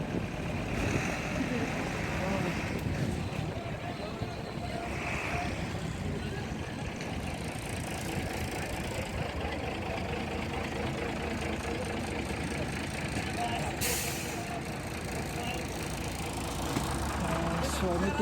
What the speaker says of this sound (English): So I came to the bus station. So from here I'll be taking the bus.